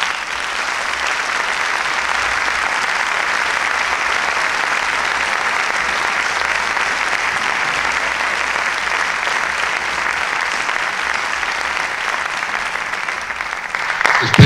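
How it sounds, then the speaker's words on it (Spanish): A concert hall audience applauds the Badajoz municipal music band: dense, steady clapping from a large crowd, sustained evenly for about fourteen seconds before tapering at the end. "Espero que el aplauso sea para ellos"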